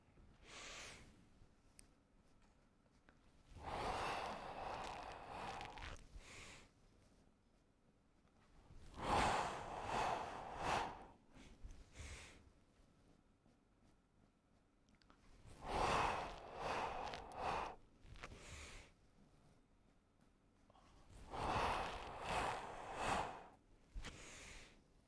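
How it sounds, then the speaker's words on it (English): Slow, deliberate breathing during a spinal cord breathing qigong exercise: four long, drawn-out breath cycles with quiet pauses between them, soft and close. "Spinal cord breathing."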